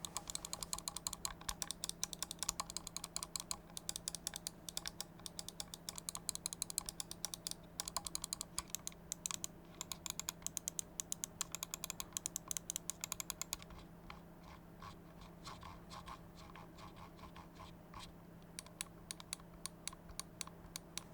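Rapid, crisp clicking in dense bursts from MSI Clutch GM31 gaming mouse buttons pressed repeatedly, close and fairly quiet, thinning out to sparser clicks toward the end.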